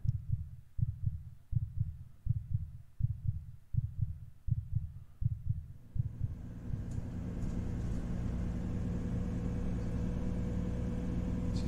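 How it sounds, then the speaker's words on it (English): A heavy, low heartbeat from the horror game The Closing Shift thumps about eight times at a steady, quick pace, loud and close. It then gives way to a constant low hum with no talk. "The fuck is my heart beating like that?"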